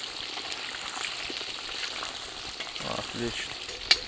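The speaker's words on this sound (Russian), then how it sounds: "Так что обжариваем картофель, потом будем обжаривать мясо." Potatoes fry in a kazan over a campfire outdoors, giving a steady, moderate sizzle with faint scraping and a sharp click near the end, while a voice speaks briefly.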